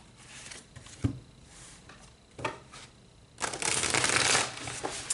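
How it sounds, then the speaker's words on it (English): Tarot cards shuffled by hand: a couple of soft taps, then a loud, dense riffle lasting about a second, close and clear, with no talking. "So let's pull some tarot."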